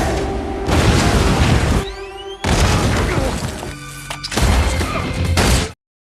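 Several loud, booming film explosions crash one after another, separated by brief lulls and a whooshing sweep, ending in sudden silence.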